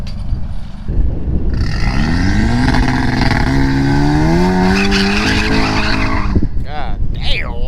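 A turbocharged BMW 340i races a Ducati motorcycle, with a loud engine revving up and a rising, sustained acceleration roar lasting several seconds before it drops away. Voices can be heard shouting over it.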